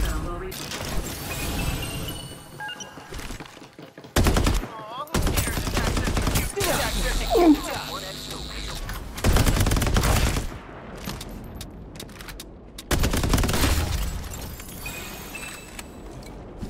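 Gunfire in the Farlight 84 video game comes in several loud bursts of rapid automatic shots separated by quieter stretches, with game effects and a voice heard between the volleys.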